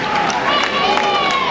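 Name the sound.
audience applause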